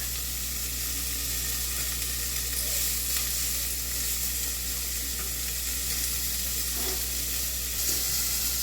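Bacon frying in a pan with no added oil for a potato bacon soup, a steady close sizzle running throughout with faint stirring, no talk over it.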